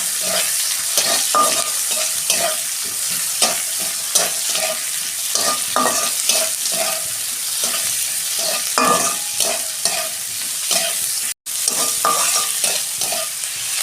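Onions fry in a pan at home while being stirred for a soybean curry, giving a steady close sizzle broken by repeated scraping strokes of a spatula, with no voices.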